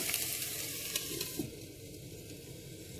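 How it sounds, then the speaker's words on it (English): Onions sizzle steadily in a hot pan for a vegetable curry, a close, even crackle and hiss with no voices. "Onions have been frying for a few minutes"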